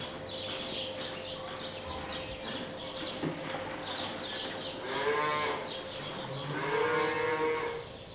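Cows in a milking byre give long, deep moos, several in a row rising toward the end, with faint bird chirps and a steady machine hum behind them.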